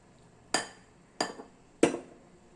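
A utensil strikes a bowl three times while milk is mixed into cauliflower pancake batter ingredients, giving sharp, evenly spaced clinks that ring briefly in an otherwise quiet kitchen.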